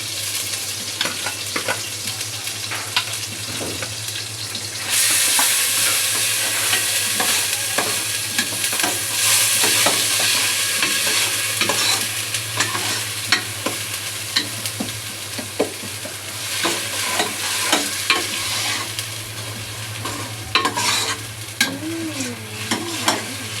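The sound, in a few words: onions frying and being stirred in a pan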